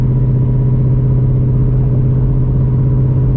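A car engine running with a steady, loud low rumble throughout, close by, holding at a constant pitch.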